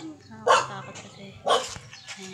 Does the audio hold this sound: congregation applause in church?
no